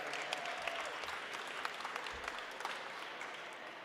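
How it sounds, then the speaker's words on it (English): Audience applause at a rally day press conference, steady crowd clapping filling the whole span, fairly faint and distant. "Let's give them a round of applause behind me."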